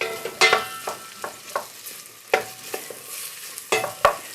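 Onions and green peppers sizzle in a pan for a Portuguese fish stew, broken by a steady series of sharp spoon-and-pan stirring scrapes, close and fairly loud, with no voices.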